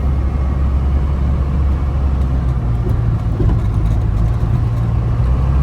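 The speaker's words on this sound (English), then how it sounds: "cruising almost 70 miles an hour" A restored first-generation Dodge W350 Cummins diesel four-wheel-drive truck cruises near 70 mph on a back road, with a steady, loud low engine drone and road rumble throughout.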